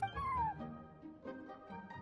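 A cat meows in Genshin Impact, one rising-then-falling mew near the start over soft in-game background music, followed by quieter game ambience.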